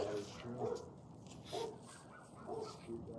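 A few soft, distant barks and yips from about three dogs, spaced out over a quiet background.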